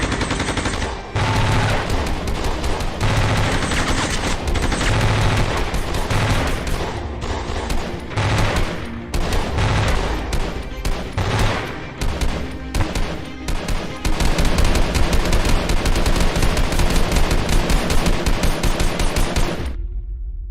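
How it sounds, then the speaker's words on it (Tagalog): Sustained gunfire rattles through a horror audio drama set amid an aswang attack, with dense bursts of rapid automatic shots and overlapping rifle fire volleying loudly and almost without pause for about twenty seconds. "Kaya naman wala na silang nagawa at magpaputok ng kanilang mga baril."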